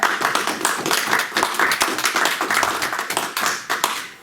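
Audience members at a lecture clap for the speaker in an uneven round of distinct, close handclaps that carries on for several seconds without talk.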